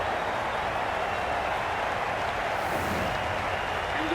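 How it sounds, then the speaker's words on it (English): Cricket crowd in the Cricket 22 video game at an India versus Pakistan Asia Cup match, a steady wash of cheering and applause, loud and continuous with no distinct voices. "Will you listen to the crowd? They are loving it."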